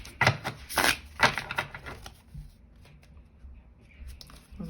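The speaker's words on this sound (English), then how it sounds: "If I can shuffle the cards." Tarot cards are riffled and shuffled in quick rustling bursts, close and crisp at first, then softer handling and faint sounds fade toward quiet.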